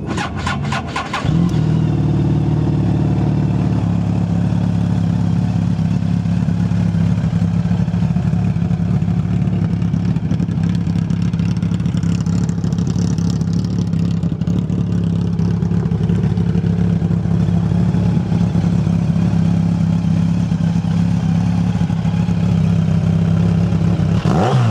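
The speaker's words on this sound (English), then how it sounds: "let's go ahead and fire it up and see what those dual shorty mufflers sound like" A Yamaha FJR1300 motorcycle fitted with dual shorty mufflers fires up after a brief pause and holds a loud, steady, rumbling idle close by, with occasional revs swelling the exhaust note.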